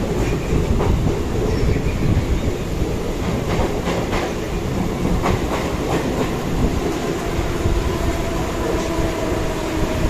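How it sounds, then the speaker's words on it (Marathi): A local train moves through flooded Wadala railway station in Mumbai during heavy monsoon rain, giving a continuous rolling rumble with a steady run of wheel clicks, fairly distant and unbroken for several seconds. "तर आता आपण पोहोचलोय वडाळा रेल्वे स्टेशन आणि पाणी बघा"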